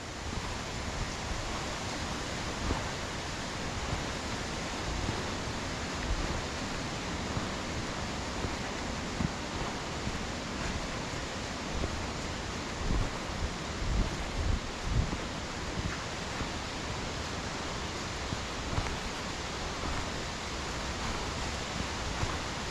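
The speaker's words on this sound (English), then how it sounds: "You can hear the water running down to me right there." Water running down toward the waterfall near Harmby, a steady broadband rush heard close up and alone, with wind and a few faint knocks mixed in.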